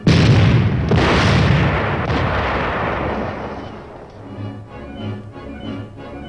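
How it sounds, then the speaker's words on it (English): A tank fires its high-velocity 90mm gun, one loud, sharp blast that booms and then rolls away over several seconds into a fading rumble. "The tank platoon's primary armament consists of 5 high-velocity 90mm"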